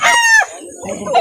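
Roosters and chickens at a poultry farm in Calauan, Laguna: a near, loud crow followed by a few short clucks, brief and close.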